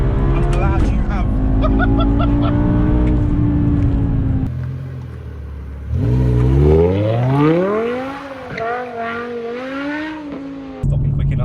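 A stage 2 Evolve tuned BMW M6 with a V10 engine revs hard and loud, its pitch climbing through the gears with a brief lift before it pulls up again, while people talk over it.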